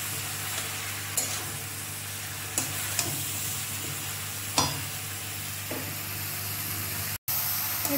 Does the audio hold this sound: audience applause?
no